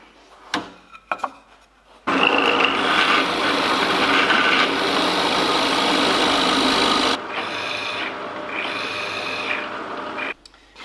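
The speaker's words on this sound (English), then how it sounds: "let's drill that center hole" A drill bores an 8mm center hole into reclaimed timber for a desk build: a few sharp knocks, then about five seconds of loud, gritty, continuous grinding, easing into a quieter, steadier whir before stopping.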